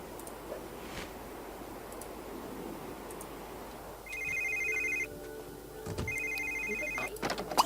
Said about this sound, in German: Ah, dieses blöde Telefon.